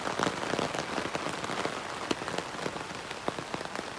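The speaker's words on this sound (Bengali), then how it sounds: "এত পরিমাণ বৃষ্টি হচ্ছে কুমিল্লাতে" Heavy rain pouring down in Cumilla during flooding, a dense, steady hiss of drops hitting surfaces nearby with scattered louder splats throughout.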